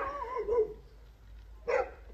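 A dog barks two short, fairly close yaps, separated by a pause of about a second.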